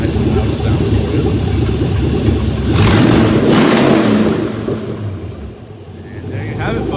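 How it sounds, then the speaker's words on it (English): A 2001 Chevy LQ4 6.0 V8 engine with 64K miles runs loud with no exhaust fitted, idling roughly before a couple of sharp throttle blips swell into a roaring rev and settle back to idle, with a voice faintly in the background. "reach over the throttle body and give it a couple of revs for you. Keep in mind we don't have an exhaust on this, so it's going to get very loud"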